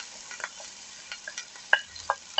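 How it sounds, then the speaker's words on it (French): Onions sauté with garlic in the beef juices left after bacon for a slow-simmered beef dish, giving a soft sizzle broken by a few sharp clicks and scrapes of stirring. "donc là, on vient faire revenir les oignons dans le jus avec l'ail"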